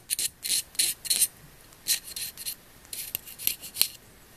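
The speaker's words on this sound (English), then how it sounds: "I'll scrape another channel here." A knife blade scraping a channel into an instrument reed, short dry rasping strokes in irregular bursts, close up and alone.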